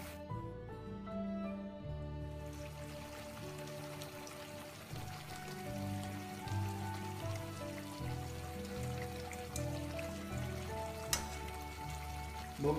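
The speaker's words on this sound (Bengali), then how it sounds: "ভোগের জিলাপি যেহেতু একটু মোটা করে ভাজা হয় তাই ভাজতে একটু সময় লাগবে, একটু সময় নিয়ে ভাজি করতে হবে।" Thick jalebi fries in hot oil over medium heat with a steady, faint bubbling sizzle under a tonal background hum, with no one speaking.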